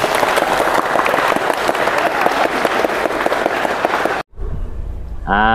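An audience at a UiTM Seremban campus program claps together in loud, dense, steady applause that cuts off abruptly near the end.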